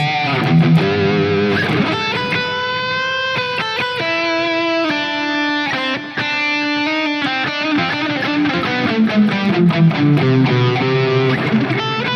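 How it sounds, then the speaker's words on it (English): A high-gain electric guitar lead played through a Headrush Prime preset with delay, sustained distorted notes and bends ringing out with echoing repeats, loud and alone for about twelve seconds. "delay, you can get kick-ass lead tones."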